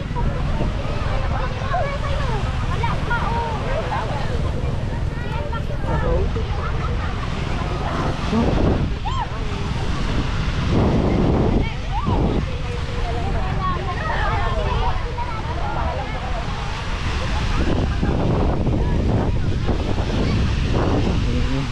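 Rushing surf and sea noise at a crowded Zambales beach, with wind buffeting the microphone and voices calling out intermittently over the steady roar.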